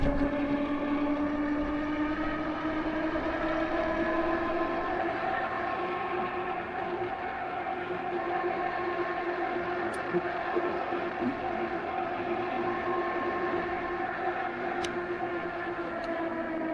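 AIPAS F3 Max e-bike ridden flat out on throttle alone, a steady motor whine with rising tonal harmonics and wind rush, constant and close throughout.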